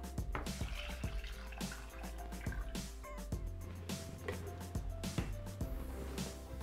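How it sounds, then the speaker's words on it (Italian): Water is poured into a Thermomix TM6 mixing bowl while making a pea, carrot and spinach risotto, a quiet close trickle with splashy drips and small clinks, no talking. "Adesso versiamo l'acqua."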